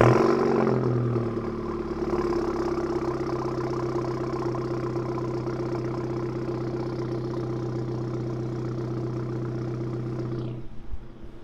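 Volkswagen Scirocco with a Warex exhaust on a cold start, firing up with a loud burst and then settling into a steady, deep idle that runs close and unbroken until it is shut off near the end.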